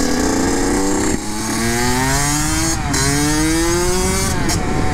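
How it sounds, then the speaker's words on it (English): A Kawasaki KX85 dirt bike engine revving loud and close, its pitch climbing and dropping through repeated rev sweeps and gear changes for the whole stretch. "Today I want to do a top speed test on this Kawasaki KX85."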